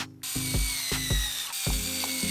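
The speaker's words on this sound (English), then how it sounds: "drilling a couple of holes, and screwing it all in place." A powered drill or driver whirs in short repeated bursts while a desk docking station is being screwed into place, each burst starting and stopping with a ratcheting mechanical tone, close and loud.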